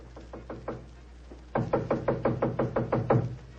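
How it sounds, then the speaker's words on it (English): Knocks on a living room door arrive in two bursts. First come a few light raps, then a louder, faster run of about ten firm knocks, close and clear with no talking. "I raised my hand to knock on what once had been my own living room door"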